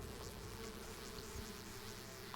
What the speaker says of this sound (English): Throwing some bees, I guess.